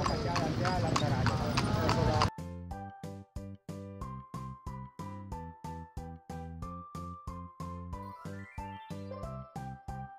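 Hooves of a horse pulling a carriage clip-clop in a steady, crisp rhythm on pavement, loud and close, after a couple of seconds of louder background noise and talk.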